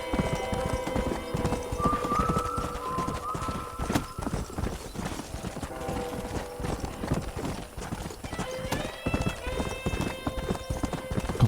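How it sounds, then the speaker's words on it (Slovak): Several horses galloping in Red Dead Redemption, a dense, fast clatter of hooves with occasional whinnies and a musical score under it, loud and continuous. "tie kone extrémne fujazdia"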